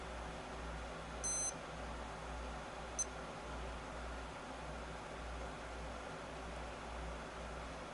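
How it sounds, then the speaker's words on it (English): Two short high electronic beeps from the piezo buzzer of a Citizen Promaster Navihawk C300 watch, the first a brief tone and the second a quick chirp, faint and close against a quiet hissing background. "Oh, you just heard a beep. That means the piezo is working."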